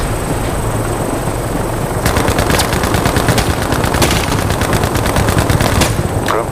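Rapid machine-gun bursts in Battlefield Mobile, loud and close, firing in sustained rattling volleys over a steady engine-like drone with no talking.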